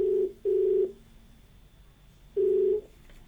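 A telephone being dialed to reach a caller sounds three short electronic tones, two in quick succession and then a third after a pause, clear and close over a quiet line hiss.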